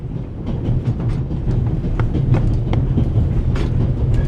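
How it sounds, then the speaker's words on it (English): Steady rumble and rhythmic clatter of the Orient Express railway carriage from a video game, a continuous close rolling noise with faint clicks of wheels over track joints throughout. "The noise on this train is driving me crazy."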